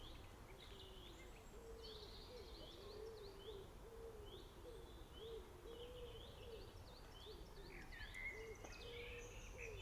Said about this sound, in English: There's a wood pigeon.